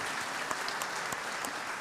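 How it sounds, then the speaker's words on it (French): Audience applause at the opening plenary of a business forum, a brief, fairly faint wash of clapping with no voices over it. "on peut l'applaudir."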